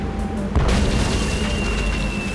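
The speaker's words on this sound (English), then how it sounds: "One of those spiffy new Hungarian easy action cannons" A cannon fires in Tales of Monkey Island, a single deep boom about half a second in that rolls into a loud sustained rumble and wash of noise, with no speech.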